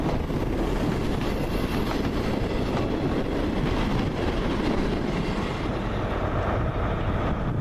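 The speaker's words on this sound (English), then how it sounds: "Is that the Avonmouth train?" A passenger train bound for Avonmouth rolls through Bristol Temple Meads station, a loud, continuous rush of wheels and rail noise with clickety-clack and a faint squeal close by.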